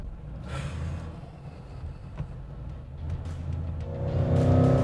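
Supercharged Ford Mustang GT convertible, California Special, with a VMP 2650 Gen 3 supercharger and over 1,000 horsepower, rumbling at low speed inside the car before the engine note swells and climbs as it accelerates.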